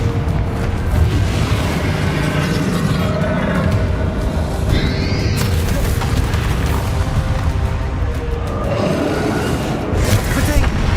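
Confringo explosive curses in the game Hogwarts Legacy blast through a dense, continuous battle din of booms and crashes, loud and layered with overlapping impacts throughout.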